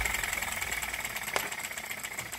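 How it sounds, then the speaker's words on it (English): A vintage Monitor hit-and-miss ball-top miniature gas engine turns over as it starts, giving a rapid, even mechanical chuffing beat with one sharper knock partway through, close and moderately loud with no talk. "And then turn the engine on."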